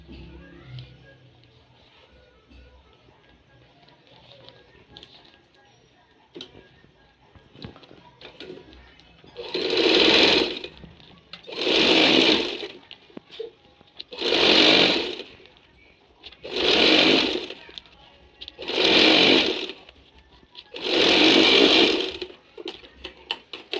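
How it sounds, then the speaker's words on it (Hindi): Sewing machine stitching a trouser border strip back over an existing seam, after a quiet start it runs in six loud, even bursts of about two seconds each, separated by short pauses. "जो सिलाई हमने पहले लगाई हुई है उसी सिलाई पे आप दोबारा सिलाई लगाएं।"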